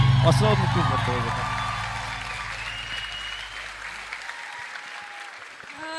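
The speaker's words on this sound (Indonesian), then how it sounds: "Tepuk tangan sekali lagi dong" After a Betawi rap performance at a political rally, a crowd gives sustained applause that gradually fades while a low musical tone lingers and then cuts off, leaving a few scattered claps.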